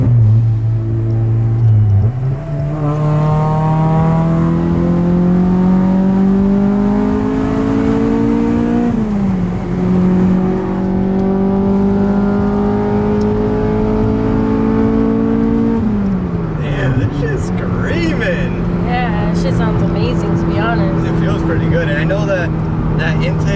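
An Acura TSX CL9 fitted with an RRC Type R intake manifold drives hard, its engine climbing loud and close through several long pulls with drops at the gear changes, and a voice speaks briefly under the noise.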